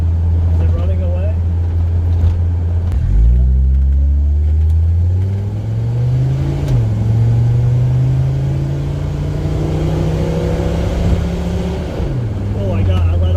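Mercedes-Benz W123 300TD with the turbocharged OM617 diesel revving hard through the gears, a loud droning engine note climbing in pitch, dropping at each shift and climbing again, with talk over it.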